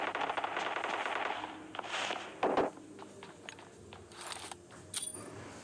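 PUBG Mobile Lite gameplay: a burst of automatic gunfire and a sharp grenade blast are followed by scattered single shots and clicks, all fairly close and punchy.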